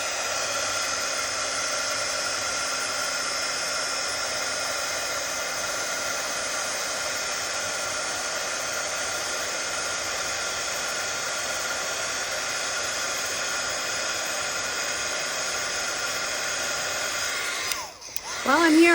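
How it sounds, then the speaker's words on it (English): A craft heat tool blows hot air over a paper card project in a steady, loud, close whooshing whine that holds evenly for about seventeen seconds before cutting off with a clunk. "Hit it with a heat tool"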